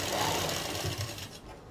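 A sewing machine stitches gathered pleats into a skirt waistband, a close, busy mechanical whirr with rapid needle clatter running continuously for a brief stretch.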